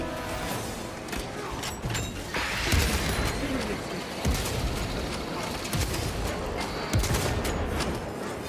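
Gunfire in Warhammer 40K: Space Marine 2 during an Operations mission, with sharp shots and bursts layered over a dense, noisy battle din that never lets up, alongside mechanical clanks.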